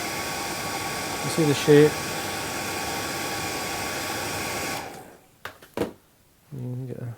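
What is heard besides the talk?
hair dryer blowing on a tied seatrout fly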